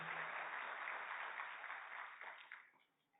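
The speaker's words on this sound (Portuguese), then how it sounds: "Se levanta aí, Jade, uma salva de palmas para ela" Audience applause at a presidential event announcing a national child literacy commitment, a sustained burst of clapping from a large crowd that fades out toward the end.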